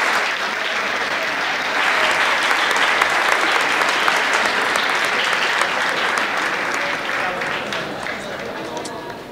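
Loud, steady applause from a large audience at a university campus festival award gala as the winner is called to the stage, continuous dense clapping that slowly eases off.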